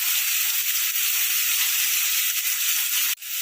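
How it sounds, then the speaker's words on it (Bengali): Cumin seeds, a small spoonful, dropped into hot oil for an aloo dum, crackling with a steady bright sizzle that runs nearly unbroken, close and fairly loud, cutting off abruptly near the end. "তেল গরম হয়ে গেছে, আমি ছোট চামচার 1 চামচা জিরা দিয়ে দিচ্ছি।"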